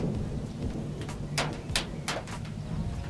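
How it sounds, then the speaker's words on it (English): Light rain patters on the metal roof of a van during an afternoon storm, a steady close drumming with several sharper louder drop hits standing out, low rumbling beneath and no talk. "Little pin drops are hitting the top of my metal roof van."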